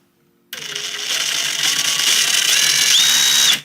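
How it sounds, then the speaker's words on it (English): A Parkside Performance 20V brushless impact driver (PDSSAP 20-Li D3) runs free after a silent start, its motor whining close and loud, with the pitch stepping upward as the trigger is squeezed through its speed levels before it cuts off. "Sounds typical of a brushless impact driver."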